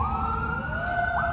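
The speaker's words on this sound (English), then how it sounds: "Sorry about the sirens in the background." A wailing emergency siren sounds steadily over rumbling traffic noise, its pitch sliding slowly, fairly loud and close.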